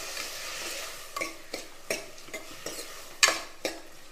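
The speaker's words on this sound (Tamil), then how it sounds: "அது வரைக்கும் நல்லா வதங்கட்டும்." Tomatoes with salt sautéing in a pan for a fresh broad bean curry: scattered spoon scrapes and taps against the pan over a faint, steady cooking hiss, with no talk.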